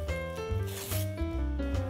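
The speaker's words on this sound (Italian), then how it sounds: "Prendo l'altra misura di nastro adesivo" A strip of adhesive tape is peeled and handled while making a glittery Christmas candle holder: a close, sticky rasping with a few squeaky pulls and short crackles.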